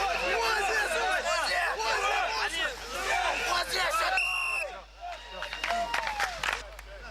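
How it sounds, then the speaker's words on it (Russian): Sports fans at an outdoor team competition cheer and shout in support, a dense, loud crowd of overlapping voices that briefly thins before rising again. "В их поддержку слышались и эмоции болельщиков"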